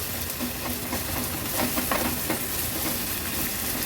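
Chopped onion with ginger-garlic paste sizzling as it is sautéed in a pan for an Agri-Koli style veg thali, a close, steady crackling fry with occasional stirring scrapes.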